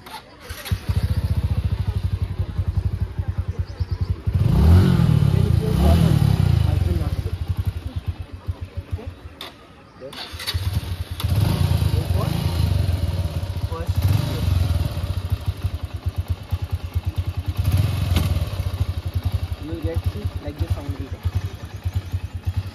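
A motorcycle engine starts during a bike riding and safety session and keeps running with a steady mid-pitched idle and rumble, briefly cutting out near the middle before restarting, with a voice talking over it.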